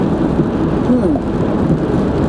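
Rain pours down as a loud, dense, unbroken wash of noise over a brief moment.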